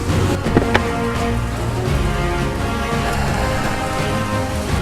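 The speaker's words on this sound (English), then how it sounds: "I guess we're just gonna chill here for a while until the rain stops" Rain falling steadily, a dense continuous wash heard outdoors while sheltering from the downpour, with some sharp knocks near the start and a background hum underneath.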